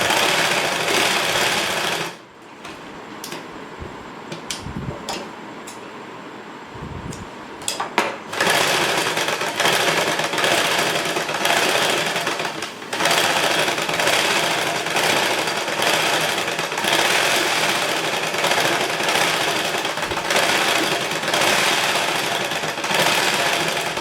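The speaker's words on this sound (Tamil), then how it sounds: "இது சுற்றியில் இருக்கிறத லைனிங்கும் ஒரிஜினலையும் சேர்த்து இப்படியே ஒரு தையல் போட்டுருணும்" A sewing machine stitches the lining and outer fabric of a blouse together, running close and loud in fast, steady whirring bursts. After a short pause near the start, it runs almost without a break to the end.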